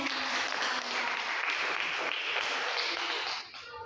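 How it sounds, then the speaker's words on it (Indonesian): Steady, dense applause from a crowd, continuous and loud throughout before tapering slightly at the end. "kita berikan tepuk tangan untuk teman yang bertanya"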